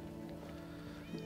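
A cat meows in a video game, a short soft cry over a steady droning game background with faint ambient tones.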